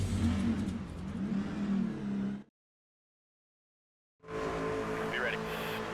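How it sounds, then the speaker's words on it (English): Pickup truck engines rev at the start of a NASCAR Trucks race at Atlanta in the NASCAR 25 game, a loud buzzing roar that cuts to silence for about two seconds, then returns with a voice talking over it. "Drivers, start your engine!"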